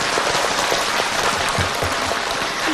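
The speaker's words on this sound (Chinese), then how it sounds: "鼓掌。" An audience bursts into applause, a dense, steady patter of many hands clapping together at an even loudness throughout.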